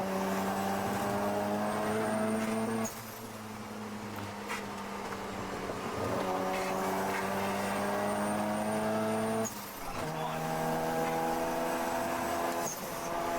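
A car engine revs in high, droning pitches that climb and drop with sharp shift breaks, sustained and fairly steady, heard clean without talking.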